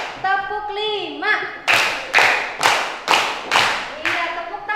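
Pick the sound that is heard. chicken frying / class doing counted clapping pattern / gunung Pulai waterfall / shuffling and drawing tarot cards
class doing counted clapping pattern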